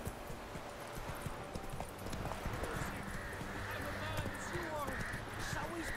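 A horse gallops with steady hoofbeats in The Witcher 3 video game, the clip-clop running throughout under game ambience, with an occasional faint whinny.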